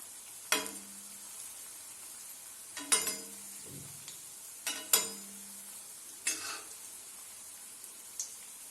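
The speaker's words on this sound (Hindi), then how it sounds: "इस तरीके से अलट पलट करके इनको अच्छी तरीके से चारों तरफ से पका लेंगे।" Turnip koftas frying in oil in a pan, a soft steady sizzle broken by several sharp clinks and scrapes as a utensil turns them over, close and without talk.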